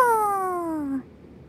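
A single cat meow in the game Honkai Impact 3, a clear, close, drawn-out call of about one second that slides downward in pitch and ends abruptly in quiet. It may be a voice imitating a cat.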